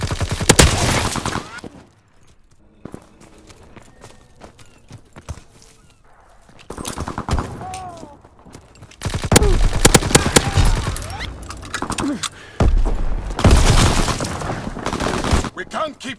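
Bursts of rapid gunfire and explosive volleys from Call of Duty WW2 multiplayer come in loud clusters separated by quieter stretches, with a voice calling out between them.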